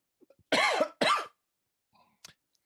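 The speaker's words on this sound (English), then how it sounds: "Sorry about this cough." Two sharp, loud coughs in quick succession, close to the microphone, followed by faint breathing and quiet.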